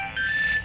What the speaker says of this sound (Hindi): सोनू भैया, किसका फोन है?